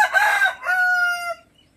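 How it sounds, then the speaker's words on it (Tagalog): A rooster crows once, loud and close, a long cock-a-doodle-doo that rises and then trails off into quiet, with no talk over it. "Ang ingay ng manok."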